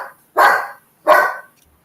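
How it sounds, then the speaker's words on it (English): Two loud, close dog barks a second or so apart, each sharp and full, from dogs caught in a small scuffle, with quiet between them. "Little dog fight going on."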